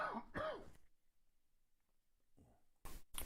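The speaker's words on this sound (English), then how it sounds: "Pardon me, I need to cough again." A man coughs and clears his throat: two harsh bursts at the start, a quiet pause, then a softer sound and two loud sharp coughs near the end, close and dry.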